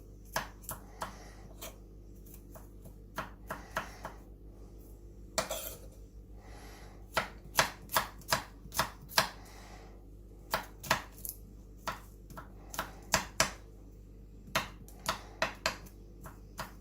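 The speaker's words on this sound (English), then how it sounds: "Roughly chopped, not too fine." Food being roughly chopped with a small paring knife on a board, irregular sharp knocks in short bursts and scattered taps, faint background, no voices.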